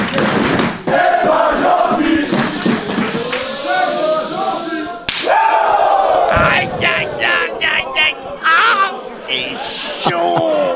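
At a wrestling match, loud slapping chops hit bare skin during a show's bout. A roaring, shouting crowd answers each strike, and commentary runs continuously over it.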